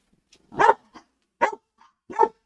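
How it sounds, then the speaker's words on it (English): Dogs bark indoors late at night in three or four sharp, separate barks spaced about half a second apart, close and clear against a quiet background. "Calm down! No barking!"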